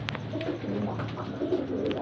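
Several Salara pigeons, including a Teddy Salara, coo steadily at close range in a loft, their low throaty calls overlapping with soft rustling and no talk.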